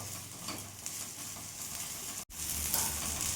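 Neem leaves fry in oil in a pan, a continuous crackling sizzle with stirring scrapes, briefly cut by a near-silent gap before the sizzle resumes louder.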